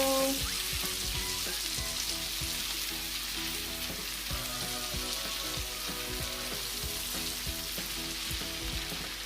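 Spicy garlic butter shrimp with parsley flakes sizzles steadily in a pan while being stirred, a constant frying hiss broken by repeated utensil scrapes and taps, close and fairly loud throughout.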